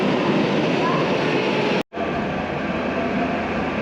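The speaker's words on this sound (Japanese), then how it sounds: "ではこちら西船橋行きの電車に乗車したいと思います。" A Tokyo Metro Tozai Line subway train bound for Nishi-Funabashi roars with a steady, loud rumble, broken by a brief sudden dropout before the noise resumes.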